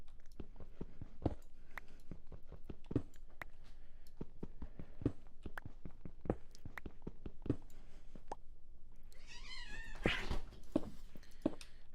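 Cats meow in a video game during cave exploration, a caterwauling cry rising near the end over a steady run of clicking taps and game noise, with no talk.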